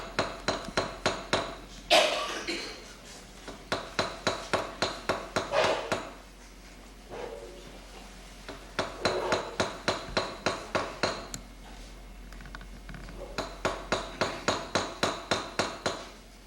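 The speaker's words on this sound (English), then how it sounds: "What I'm going to do is flip my hammer over and use the flat side." Repeated metal hammer strikes flattening the top of a rivet with the flat face of a hammer while making hinges, sharp ringing blows in quick bursts of eight to ten, separated by short pauses, close and loud.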